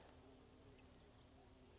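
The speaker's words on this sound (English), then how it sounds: "I leave it for the bees because they just love this." Bees buzz around flowering lavender in a pollinator garden, a faint, steady hum with a thin high insect drone over quiet outdoor ambience.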